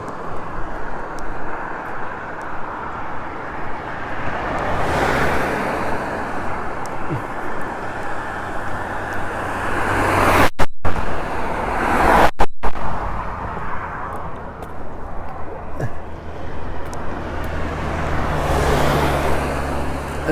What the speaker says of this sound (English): It's not that easy with all the traffic noise.